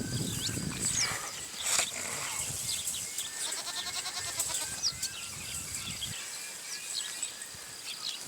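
A grazing flock of sheep and goats bleating repeatedly, several overlapping calls near and far, with faint bird and insect sounds in the open air behind them.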